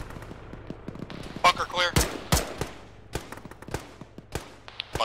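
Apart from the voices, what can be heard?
gunfire in a military video game (ArmA, ShackTac)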